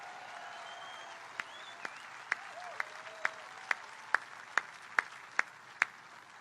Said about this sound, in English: Let's give a round of applause to David.